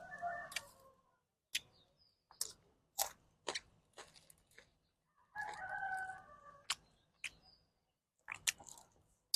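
A rooster crows twice at moderate distance, each call a drawn-out rising and falling crow, with sharp intermittent clicks and taps from nearby food grilling in between and no speech.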